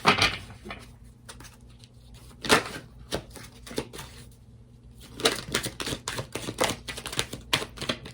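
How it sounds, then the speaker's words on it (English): Tarot cards are drawn from a deck one after another in a pick-a-card reading, giving a quiet, close run of dry shuffling, sliding and tapping with a lull in the middle and no talking. "Let me pull all your other cards out."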